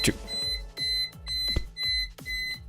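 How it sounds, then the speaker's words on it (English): A kitchen-style timer alarm going off, a series of five or six shrill, evenly spaced beeping bursts, loud and close, with brief gaps between them. "The timer went off."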